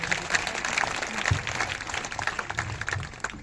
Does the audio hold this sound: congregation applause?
yes